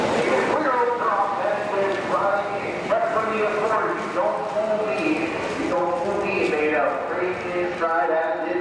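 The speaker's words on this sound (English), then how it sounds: "Horses moving to the top of the stretch. Picking up speed." Racing horses galloping at a county fair race, their hoofbeats rumbling beneath a race announcer's continuous call over a loudspeaker.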